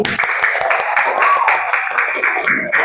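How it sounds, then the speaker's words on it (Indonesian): Schoolchildren clap together in an Indonesian classroom, a muffled, busy patter mixed with children's voices throughout. "Tepuk tangan untuk Boy."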